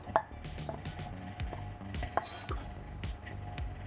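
A kitchen knife chops a large piece of ham into small cubes on a cutting board, a steady run of close, sharp knocks with a few clinks of kitchen utensils.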